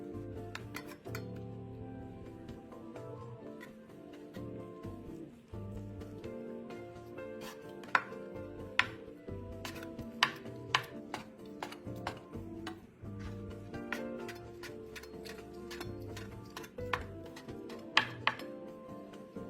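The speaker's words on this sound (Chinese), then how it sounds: "香菇1朵，切成丁。" A kitchen knife dices a single shiitake mushroom on a cutting board, giving a run of light, irregular taps and clicks at close range, with no voices.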